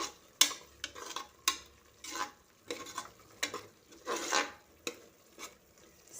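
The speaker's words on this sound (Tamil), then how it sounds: "இதை நல்லா கிளறி விட்டுட்டு" A spoon scrapes and stirs potato pea gravy with curry masala in a pan, irregular close clinks and scrapes against the metal over a faint simmer, no voices.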